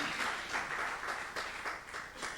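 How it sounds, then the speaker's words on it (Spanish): A church congregation claps for God, a brief, moderate patter of many hands with a loose, uneven rhythm that rises and falls slightly. "Démosle un aplauso a nuestro Dios"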